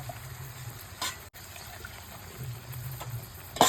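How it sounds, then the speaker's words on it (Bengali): Water poured into a biryani pot during cooking, a soft trickling and splashing under a faint background hiss, with brief louder splashes near the end. "আমরা এটাকে কষানোর পর হালকা জল দিয়ে দেব।"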